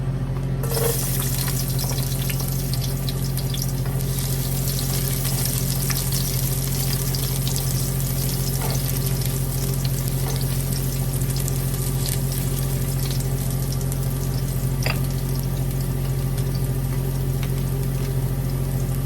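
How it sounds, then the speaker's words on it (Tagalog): Garlic sizzles steadily in a hot pan for chicken tinola, a constant hissing fry that runs unbroken and fairly loud over a low hum, with a few faint clicks along the way. "Igisa muna natin ang ating bawang"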